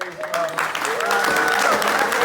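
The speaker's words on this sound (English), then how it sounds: "a huge round of applause, please, for James" Audience applause at the Chiswick Book Festival, a dense patter of clapping from a seated crowd with some voices and whoops mixed in, steady and fairly loud for a couple of seconds.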